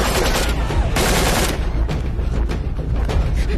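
Rapid bursts of gunfire crack through a dense, loud mix, with a heavy volley around the first second and more shots scattered after it, all at steady high level.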